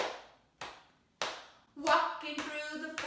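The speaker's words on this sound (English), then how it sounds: "Let's get our hands clapping." Three sharp, evenly spaced hand claps ring out close up, then a few more blend into singing.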